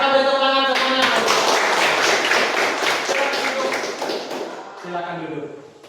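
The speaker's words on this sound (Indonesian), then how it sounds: "kita beri tepuk tangan semuanya" An audience at a church school event claps together in a burst of applause, moderately loud, with a voice speaking just before and after.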